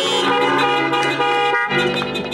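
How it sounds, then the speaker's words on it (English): A car horn blares in sustained, bright tones that shift slightly partway through, loud and close, with no voices over it. "Honk your horn."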